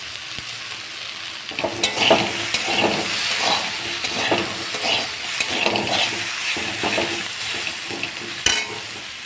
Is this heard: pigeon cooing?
no